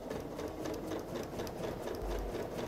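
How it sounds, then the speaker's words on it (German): A sewing machine stitches the bottom onto a fabric yoga bag, a fast, steady mechanical chatter running close and continuous throughout, with no talking. "Jetzt nähen wir uns den Boden an die Tasche."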